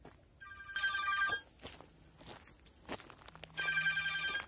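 A telephone rings in short trilling bursts, two clear rings separated by a quiet gap, fairly soft, with faint footsteps and rustling around them in an orchard setting.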